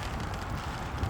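Steady low wind roar buffeting the microphone while riding a bicycle alone on an open road, a continuous rumble with no voices.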